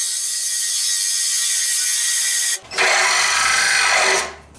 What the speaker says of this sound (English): I'm gonna drill a hole into that